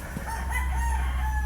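A brood stag rooster crows once in a sustained, fairly faint call that holds steady over a low background rumble, with no one speaking.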